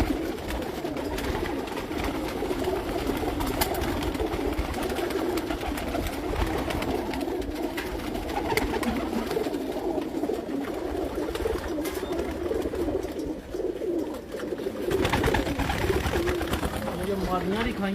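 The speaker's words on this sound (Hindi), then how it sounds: "कबूतर है।" Pigeons coo steadily on a rooftop loft in Hafizabad, a soft continuous murmur mixed with background voices and chatter throughout.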